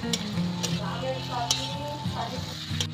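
Banana flower, potatoes and chickpeas stirred together in a pan, with a steady oily sizzle and the scrape and clink of a spoon on metal repeating in a loose rhythm, close by.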